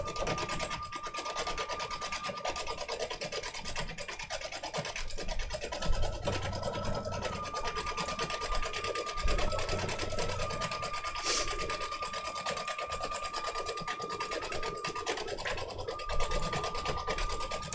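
Continuous mechanical whirring and rasping of an embroidery machine stitching free-standing lace steadily, with a sustained hum and rhythmic scratchy texture throughout.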